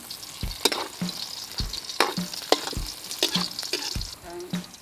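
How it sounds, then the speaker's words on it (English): Garlic and other ingredients fry in cooking oil for a rabbit meat dish, a close crackling sizzle punctuated by repeated knocks and scrapes of stirring against the pan. "So guys, we will fry our ingredients."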